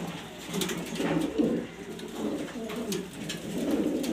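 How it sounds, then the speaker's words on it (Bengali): Several German beauty homer and Andalusian pigeons coo in soft, repeated throaty phrases close by, with overlapping calls rising and falling throughout. "এখানে 9 পিস কবুতর আছে"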